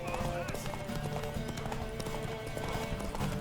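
Horse hooves clip-clopping in the video game Witcher 3: quick, steady hoofbeats close by, mixed with game sounds, with a voice speaking over them.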